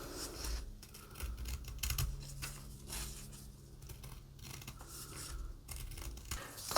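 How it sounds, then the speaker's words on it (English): Fabric scissors snip along a marked line through fabric trim on a fisherman's basket cover, giving a steady run of close, soft crisp cuts and rustling with no talking. "just follow the line with the fabric scissors"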